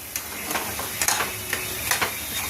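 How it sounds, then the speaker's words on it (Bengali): Ground spices sizzling in a pan while being stirred for prawn makhana malai, a steady close sizzle broken by several short scraping stirs at an uneven rhythm, with no talking. "মশলাটা এবার একসাথে দিয়ে দিলাম।"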